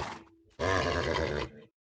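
A horse in the Minecraft video game is hit and gives a single harsh, loud grunting whinny lasting about a second, preceded by a softer brief sound and then silence.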